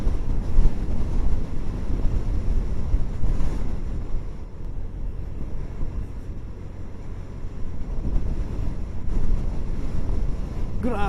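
Strong wind buffets the microphone on a motorcycle ride aboard a Honda Genio toward Infanta, Quezon, a heavy low rumble and roar that surges and eases continuously throughout.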